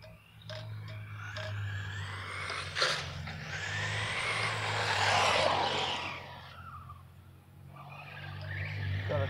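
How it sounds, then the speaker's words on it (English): A car driving past on the road, rising from faint to a broad swell of road and engine noise that peaks mid-clip and fades again, under a steady low hum from nearby equipment. "car coming by, so we're gonna pull over."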